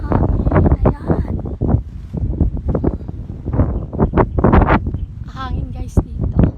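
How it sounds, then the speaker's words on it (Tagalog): Gusty wind on a farm in Pantabangan, Nueva Ecija buffets the microphone in strong rumbling bursts while people talk close by throughout. "Napakahangin."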